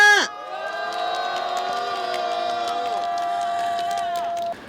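A crowd gathered outdoors at a Korean press conference marking the Day for the Eradication of Poverty cheers and whoops steadily for several seconds, a loud sustained roar of voices after a brief opening burst.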